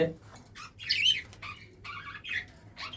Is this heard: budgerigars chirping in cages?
yes